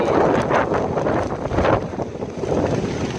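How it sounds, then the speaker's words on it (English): Strong wind after Hurricane Florence on Hatteras Island, North Carolina, roaring steadily and loudly into the microphone in gusty surges with no talking. "if you can hear, this is the wind still"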